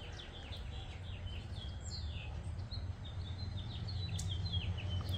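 Birds chirp and call in scattered bursts on a quiet morning by a fig tree, with a low steady hum underneath throughout.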